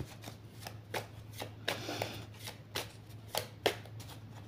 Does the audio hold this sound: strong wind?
no